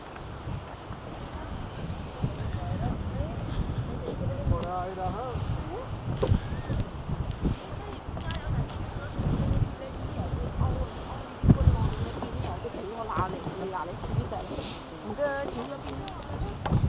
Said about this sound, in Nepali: यस्तो दामी हावा चलेको चिसो